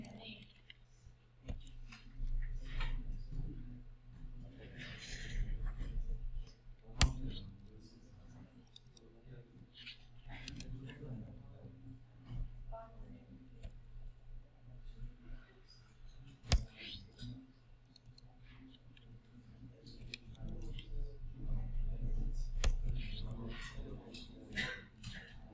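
Clicking keystrokes on a computer keyboard tap out in irregular bursts while someone types names into a program, with speech heard between the clicks.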